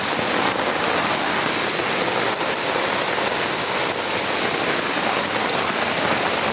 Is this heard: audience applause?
no